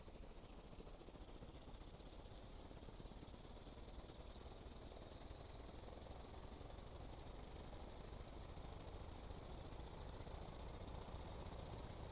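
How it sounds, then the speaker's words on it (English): A plane's engine in the Stormworks video game drones steadily throughout, a faint, continuous rattling hum with no pauses or changes in pitch. "I think my engine's way too weak."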